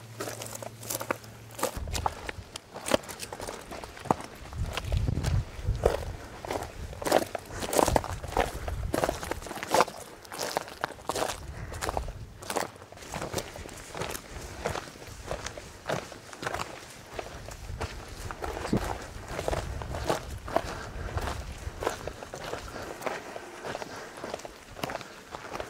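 Footsteps crunching on pine cones in the Holmer Sandberge, a steady walking rhythm of close, crisp crunches and crackles that continues throughout with a little quiet background.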